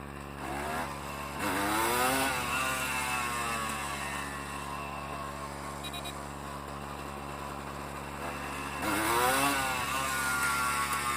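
A Honda CRM 250 two-stroke motorcycle rides tight turns, its buzzy, raspy engine note rising and falling as it revs up twice, close and steady in between, with no talk.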